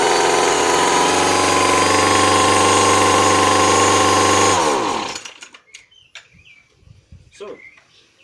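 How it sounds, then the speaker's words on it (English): A grass trimmer engine runs loud and steady with a high buzzing whine for several seconds, then is switched off and winds down, leaving faint birdsong and outdoor quiet. "That's your grass trimmer operation."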